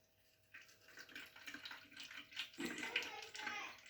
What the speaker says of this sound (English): I need to put the tea into my bottle, and all I'm going to do is literally just pour it in until it's full